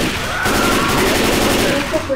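Rapid gunfire from the zombie shooter Left 4 Dead 2, a dense burst of shots running continuously for about two seconds, loud and close.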